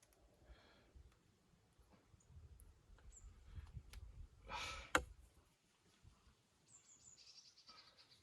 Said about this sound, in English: A noisy pigeon just tried flying by.